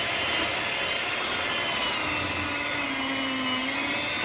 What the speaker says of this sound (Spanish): Y lo vamos a llevar a la batidora a que se creme.